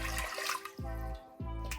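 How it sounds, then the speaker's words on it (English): Water gushes into a cooking pot in three short bursts, each splashing pour starting abruptly and stopping, close and fairly quiet with no talking. "we're gonna add about 1 3/4 cups, so just under 2 cups of water"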